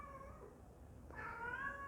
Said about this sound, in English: I'm sorry for the alert from my cat.